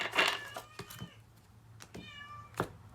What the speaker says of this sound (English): That's the cat meowing.